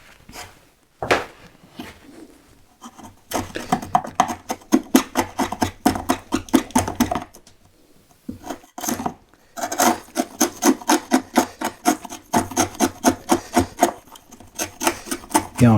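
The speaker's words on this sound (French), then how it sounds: "je prends mon ciseau et puis je travaille tranquillement" A wood chisel pares a half-lap joint, making rapid rhythmic scraping strokes in close, steady bursts with a few short pauses between runs.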